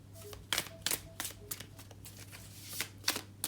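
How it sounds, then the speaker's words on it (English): Tarot cards being shuffled in a quiet room, a string of soft papery riffles and taps arriving in irregular bursts over a steady low hum, close to the listener with no talking. "But shuffling some cards for Sagittarius"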